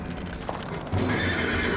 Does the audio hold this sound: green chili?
no